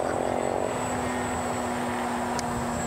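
A radio-controlled model airplane flies overhead, its engine a steady, continuous high whine that stays loud and even throughout with no talk over it.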